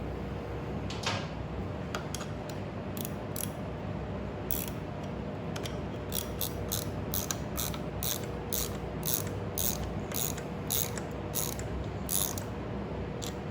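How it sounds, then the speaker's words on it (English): Repeated ratcheting clicks from a wrench tightening a nut on a Shovelhead motorcycle clutch, a steady run of sharp close clicks in bursts over a low shop hum, with no talking. "And then I put the nut back on there and I tighten it up"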